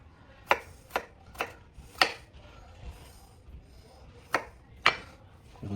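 A knife chops through food on a board while preparing a BBQ family platter, six sharp separate knocks at uneven intervals, close and clear in a quiet kitchen.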